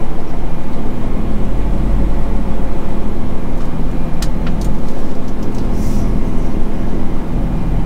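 Heavy work vehicle pulling away, its diesel engine rumbling loudly and steadily from inside the cab, a constant low drone with faint rattles.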